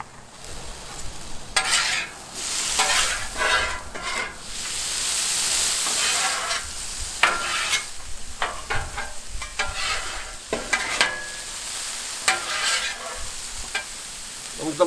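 Raw pork hits a hot Blackstone griddle and fries loudly, with steady close sizzling, bursts of scraping and stirring, and crackling spatter running throughout.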